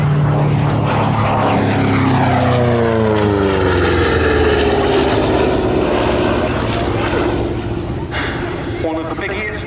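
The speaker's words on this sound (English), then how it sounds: "now diving in from the left, the Republic P-47D Thunderbolt" A Republic P-47D Thunderbolt single-engine fighter dives past at an air show, its loud propeller engine roar sweeping through a falling pitch as it passes, with an announcer talking over it.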